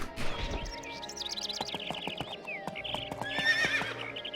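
Horse in the video game Two Worlds whinnying in a rising, wavering call over steady clip-clop hoofbeats, with a second neigh later amid the trotting.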